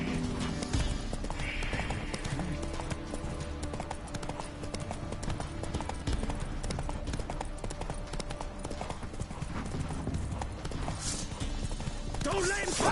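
Roach the horse gallops in The Witcher 3, with steady rapid hoofbeats that stay loud and continuous throughout, a brief whinny near the end, and a voice calling over the running.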